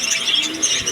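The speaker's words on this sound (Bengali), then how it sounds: "বিভিন্ন ধরনের কবুতর আছে এখানে দেবাশিসের দোকানে" Pigeons of assorted breeds such as Teddy, Kamagar and red-throated birds coo together inside a busy pigeon shop, a dense overlapping murmur of calls filling a short moment with no voices.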